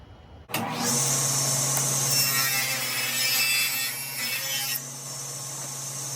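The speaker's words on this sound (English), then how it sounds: "whenever I'm splitting wood on the table saw" A table saw blade cuts straight through a piece of wood to split it for small storage boxes. It starts abruptly as a loud, sustained rasping cut, then drops to a quieter whine of the spinning blade near the end.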